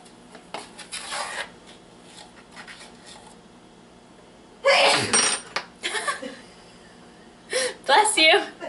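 A woman sneezes sharply and loudly in a kitchen while making Irish soda bread, a single burst amid her ongoing talk and faint clinks of utensils.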